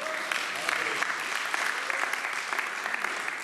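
A church congregation applauds at an anniversary and birthday celebration, with dense, sustained clapping filling the room at fairly close range and staying strong from start to finish.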